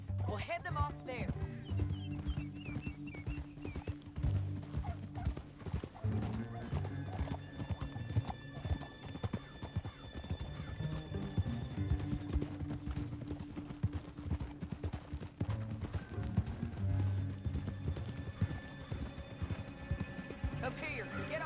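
Rhythmic hoofbeats of several horses galloping steadily in the video game Red Dead Redemption 2, with occasional neighs and whinnies over a busy, continuous background.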